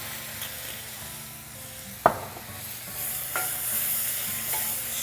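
Red wine splashes into toasted rice in a pan for a chanterelle arroz and is stirred to coat, giving a soft steady sizzle with one sharp clack of the spoon and a few lighter scrapes.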